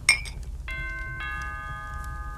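A doorbell chime rings indoors, with a sharp ding followed by two sustained ringing tones that overlap and slowly fade, alone over a quiet low background.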